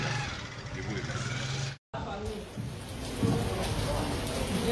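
Steady rain falls outdoors during a street gathering, a dense close hiss that runs throughout, briefly cut out, while people talk in the background.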